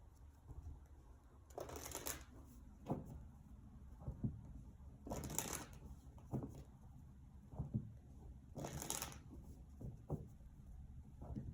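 Tarot cards shuffled and drawn in three broad bursts of riffling, each followed by short soft taps and slaps as cards are pulled and laid down, fairly close, with no talking.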